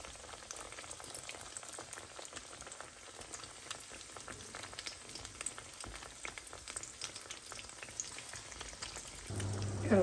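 Petulla dough frying in half a litre of hot oil, a continuous close bubbling crackle and spatter that holds steady throughout, growing slightly louder near the end, with no talking.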